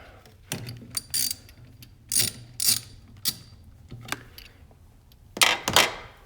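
A 10mm socket wrench ratchets on a bolt of a 2018–2019 Honda Accord 2.0, giving bursts of crisp clicking strokes separated by short pauses, close and clear, with no speech.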